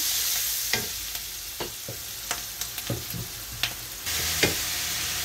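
Tomatoes go into a pan of frying masala as a spatula scrapes and stirs, giving a series of sharp clacks and scrapes over a low, steady sizzle, with a louder burst of frying near the end.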